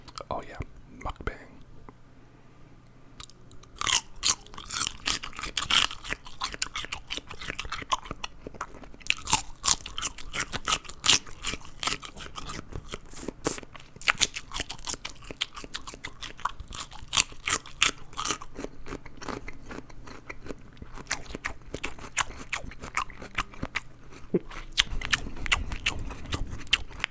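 Close, crisp crunching and chewing of carrots, celery, apples, pickles and mixed nuts, with irregular bites and crackles throughout and soft whispering in the background.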